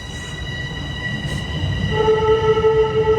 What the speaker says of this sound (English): we'll let the train pass by.